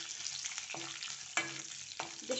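Cashews with curry leaves fry in a pan for vangibath, giving a steady soft sizzle with a few stirring scrapes that stand out, and no talking.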